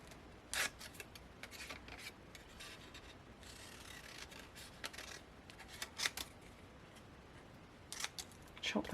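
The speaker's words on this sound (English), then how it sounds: "Long pair of scissors." Crisp snips from long scissors cut through paper for card making in uneven bursts, close up, with faint rustling between the cuts and no talking.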